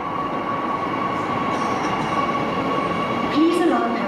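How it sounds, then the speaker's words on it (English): A metro train rolls into a station platform, a steady loud rumble of wheels and motors with a rising squeal near the end, while a platform announcement voice speaks over it. "Train approaching. Stand back from the platform edge."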